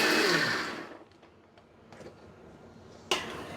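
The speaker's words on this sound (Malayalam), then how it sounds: "കുറച്ച് വെള്ളം കൂടി ഒഴിച്ചിട്ട് അരയ്ക്കും." An electric mixer grinder whirs loudly as it grinds a chutney with about half a glass of added water, then winds down, followed by a few clicks and a sharp burst near the end.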